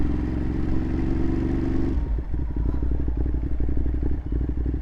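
A motorcycle rides along a road, a steady engine drone shifting at about two seconds into a rougher, pulsing rumble with clatter, continuous and close throughout.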